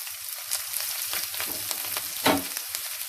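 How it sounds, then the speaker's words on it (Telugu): Chopped mint and onions sizzle and crackle in hot oil in a pan, a close, dense frying hiss with bursts of popping and a louder surge near the end, no talk. "పుదీనా ఆనియన్స్ ఇవి కట్ చేసుకొని ఒకటేసారి ఇందులో వేసేస్తాను చిట్టపట్టలు ఆడాలని"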